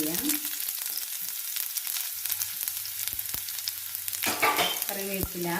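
Small onions frying in hot coconut oil for a tempering, a close, steady sizzle with a few sharp spatters and pops and a burst of stirring near the end.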